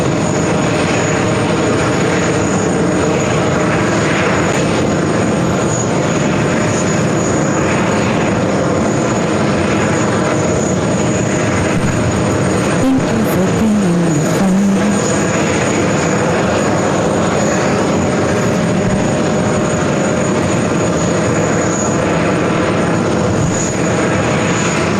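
Boeing 777 freighter departing JFK for Anchorage, a sustained loud jet engine roar filling the whole stretch with a steady broadband rumble and hiss.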